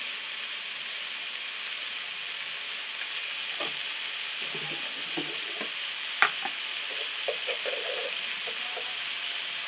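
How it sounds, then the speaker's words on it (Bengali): Spice paste with turmeric is sautéed in a pan, a soft continuous sizzle under scattered light stirring scrapes and clinks, close and fairly quiet with no talk. "মশলাটা আমি ভালো করে কষিয়ে নেবো"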